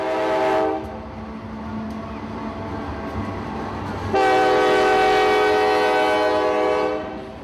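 A CSX freight train rolls by at a small-town festival in Folkston, sounding its horn loudly in two long sustained blasts, the second louder and fuller, over a steady rumble of rolling cars.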